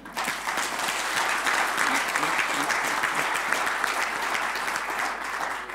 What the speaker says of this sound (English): Can we practice the clapping?